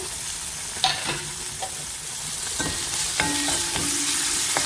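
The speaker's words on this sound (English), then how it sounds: "we're just going to fry that off for a minute. You don't want to burn the garlic and ginger." Onions, garlic and ginger frying in a pan for a Mauritian rougaille tomato sauce, a steady sizzle with a few spoon scrapes and stirring knocks throughout.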